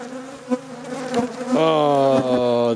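Honeybees from a winterized hive swarm right against the camera, a loud close buzzing drone that rises in pitch and intensity midway as the insects bump and sting the lens.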